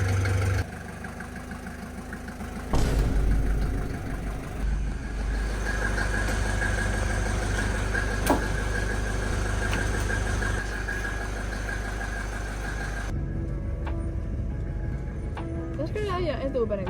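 A Mercedes car engine runs steadily at a low idle in a garage, a continuous near rumble with a sharper knock near the start and a speaking voice over it throughout.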